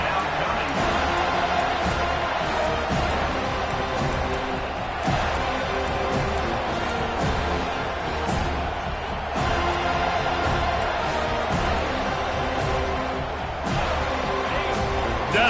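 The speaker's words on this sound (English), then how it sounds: "Decibels rising as the crowd gets behind this defense on 3rd down." A stadium crowd in a football video game keeps up a steady roar throughout, with sharp thuds and claps popping out of the din.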